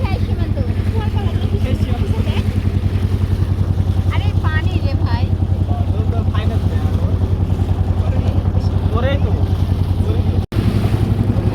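A boat cruising past floating villages, with a steady engine thrum, wind buffeting and water noise throughout, and voices talking over it.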